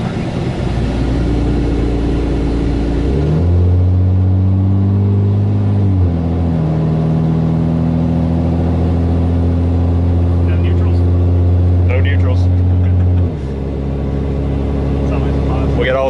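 2012 Cummins diesel pickup with a new torque converter and valve body, engine droning loudly as it steps through gear changes, with pitch shifts marking each shift and a steady hold before revs settle.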